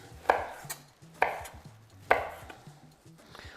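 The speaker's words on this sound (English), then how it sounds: "We're just gonna cut them up, rough chop, and put them in the blender" A knife rough-chops red and Italian peppers on a cutting board for soup. Three sharp, evenly spaced chops land close by, with quiet movement between them and no talking.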